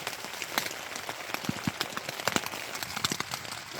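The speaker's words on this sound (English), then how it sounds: "It's raining." Rain pattering on a camping tent at night in the backcountry high country, scattered irregular drops tapping close against the fabric over a soft steady hiss, fairly quiet.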